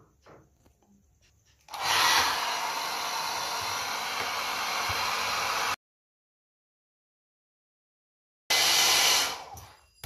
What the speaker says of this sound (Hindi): तुरंत सुखाने के लिए आप हेयर ड्रायर या धूप का इस्तेमाल कर सकते हैं